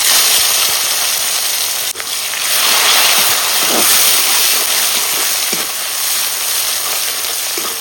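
Tomatoes hit hot tempering oil for a rohu fish curry, raising a loud, dense, continuous sizzle close by, with one brief click early on.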